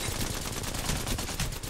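Rapid gunshots in the shooter Apex Legends, a continuous fast stream of close, loud shots with no gap or talk.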